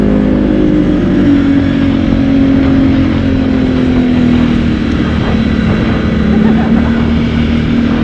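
Can-Am off-road vehicle engine accelerating, a loud, close, steady drone with a slowly shifting pitch over eight seconds, joined by wind and rumble and a voice speaking briefly.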